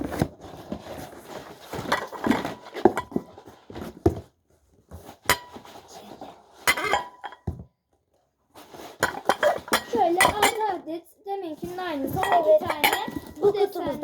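Ceramic plates decorated with a Smurfs pattern clink and clatter as they are unpacked from a box, irregular knocks with quiet gaps, near and moderately loud, with someone talking at times.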